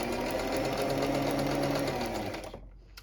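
A sewing machine stitches gathered elastic onto a skirt edge with a steady, fast mechanical whirr close by, then slows and stops near the end.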